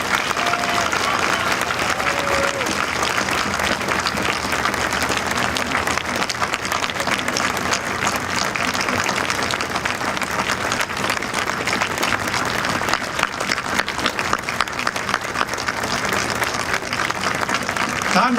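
A crowd at a monument dedication applauds steadily and loudly, dense clapping sustained without a break, with faint voices mixed beneath.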